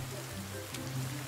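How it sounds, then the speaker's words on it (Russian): Heavy rain in The Forest survival game falls as a steady, faint hiss, with low voices and a hum running underneath. "Серега, дождь еще сильный, ураган!"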